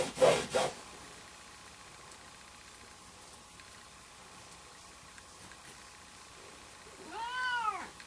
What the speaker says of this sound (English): That's my cat, Puffman.